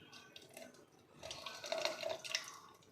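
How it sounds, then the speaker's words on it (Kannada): Water trickles and splashes into tomato juice for a couple of seconds, growing louder midway, close and fairly quiet with no talking. "ಈಗ ಇದಕ್ಕೆ ನಾನು ಸ್ವಲ್ಪ ನೀರು ಹಾಕ್ಕೊತೀನಿ"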